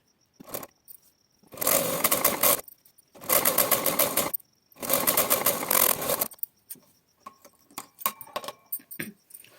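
A sewing machine stitching along a fabric cord runs in three loud, steady bursts of rapid whirring, with short pauses between them and then quieter clicks and handling noises, close up with no voices.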